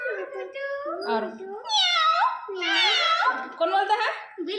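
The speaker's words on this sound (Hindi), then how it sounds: "सही में मियाँ मियाँ बिल्ली बोलती है" A cat meows repeatedly in a run of drawn-out, rising and falling cries, close and fairly loud, while a voice is mixed in.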